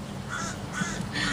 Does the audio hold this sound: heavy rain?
no